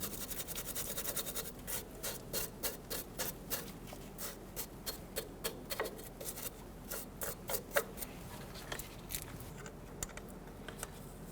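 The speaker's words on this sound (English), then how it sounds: "grab a bristle brush and clean this up a little bit here on the aluminum" A bristle brush scrubs an aluminum control arm on a 2006-2010 Hummer H3 during front brake hose work, giving quick rhythmic rasping strokes, close and fairly quiet, speeding into a dense run of scrubs midway.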